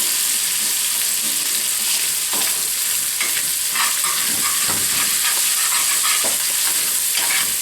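Melted lard sizzles loudly in a pan of sausage gravy, a dense steady frying hiss broken by scrapes and stirring clatter.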